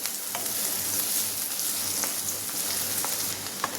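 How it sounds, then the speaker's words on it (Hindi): Onion frying in a pan for masala bhindi, a steady even sizzle with a few light clicks of a utensil, moderately loud and close, no speech. "चलिए प्याज को हम अच्छी तरह से भून लेंगे।"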